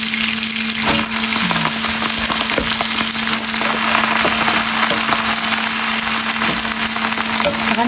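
Vegetables fry loudly in plenty of hot oil, a dense, continuous close-up crackle and sizzle with occasional sharper pops and a steady hum beneath, no speech present.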